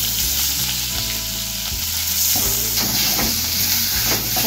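Boiled, mashed potatoes fry in a pan with crushed garlic, chili, turmeric and salt for a samosa roll filling, giving a loud, continuous sizzle with scraping stirs throughout.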